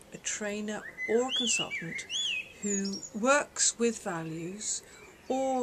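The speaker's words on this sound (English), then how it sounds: "You can actually hear a beautiful blackbird in the background." A blackbird sings outdoors on a patio, its bright chirps and whistled phrases repeating in the background while someone speaks close up over them.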